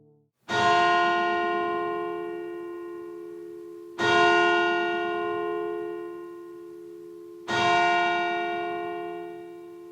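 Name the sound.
church bells tolling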